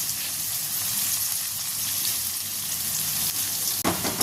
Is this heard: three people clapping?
no